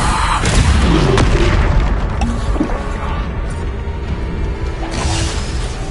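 Bombarda blasting spells booming in Hogwarts Legacy combat, a dense, loud series of explosive bursts and impacts over a constant rumble of battle effects, with no talking.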